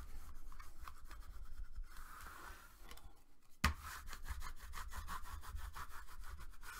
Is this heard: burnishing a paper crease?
yes